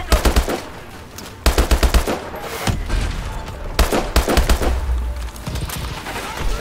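Helicopter-mounted gun in Call of Duty Advanced Warfare firing loud, rapid bursts of automatic shots with deep low thuds, several clustered volleys separated by short pauses.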